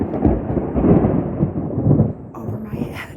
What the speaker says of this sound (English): I don't see the lightning, but I certainly hear the thunder.